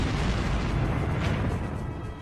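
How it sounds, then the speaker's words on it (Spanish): Mines exploding under the walls of the Kazan fortress, a heavy continuous rumbling blast with dense low roar filling the whole stretch, heard without talk. "La fuerza de la explosión paró la batalla en seco."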